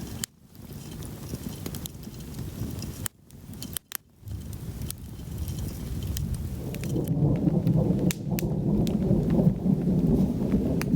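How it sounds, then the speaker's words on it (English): Thunder rolls around a camp in the Uinta Highlands under a gathering storm, a continuous deep rumble that swells louder and closer in the second half, broken by brief gaps, with no rain falling. "Thunder's getting closer and closer."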